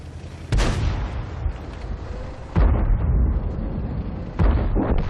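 KV-5 heavy tank gunfire in World of Tanks: three loud, close cannon blasts about two seconds apart, each followed by a deep rumbling decay, with no talking.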